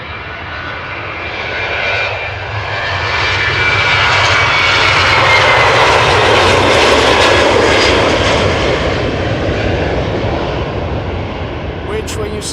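A loud, steady engine roar from a 19-year-old airplane at Amsterdam Schiphol Airport swells and holds, a broad droning rumble that fills the whole stretch.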